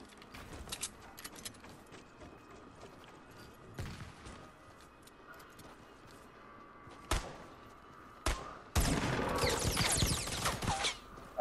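Gunfire in Fortnite, a few sharp isolated shots followed by a loud rapid burst near the end, against quiet game ambience.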